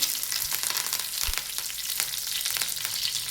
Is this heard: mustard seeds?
yes